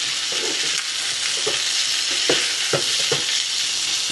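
Chopped onion and hotdog sizzling steadily in a frying pan, a constant hiss with occasional soft scraping taps of stirring, close and alone.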